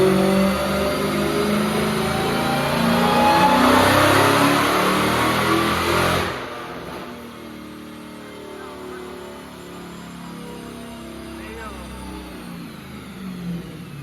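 A Dodge Hellcat Redeye engine roars at high revs during a dyno tuning pull, loud and sustained for about six seconds before cutting back to a lower, rumbling idle with a faint whine.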